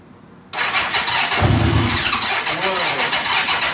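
A 1985 Honda Gold Wing GL1200 Aspencade motorcycle, a barn find left sitting for 28 years, starts with choke on; a sudden loud crank catches into a rough, steady running engine close by, with voices talking over it.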